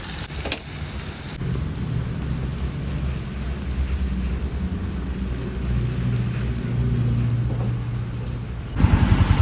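Steady rain pours down continuously, a dense hiss with a low rumble underneath, no talking, ending with a few louder patters.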